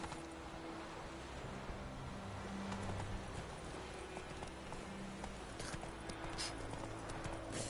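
Roach the horse trots along in The Witcher, with steady rhythmic hoof clip-clops running under quiet game ambience and background music throughout.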